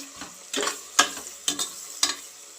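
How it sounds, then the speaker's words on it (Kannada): Onions and green chilies fry in oil in a pan for a mung bean and dill leaf palya, with a soft steady sizzle and four or five bursts of stirring scrapes at a fairly even pace, close and alone. "ಉಳ್ಳಾಗಡ್ಡೆ ಮೆಣಸಿನ್ಕಾಯಿ ಎಲ್ಲ ಹಿಂಗೆ ಚೆಂದಾಗಿ ಫ್ರೈ ಆಗ್ಬೇಕು"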